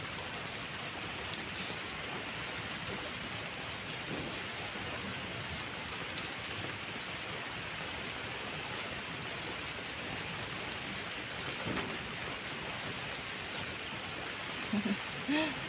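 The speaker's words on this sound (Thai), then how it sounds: "ฝนตกชุ่มฉ่ำเลยนะคะ วันนี้นะ" Steady rain pours down with a dense, even hiss throughout, with no breaks or other prominent sounds.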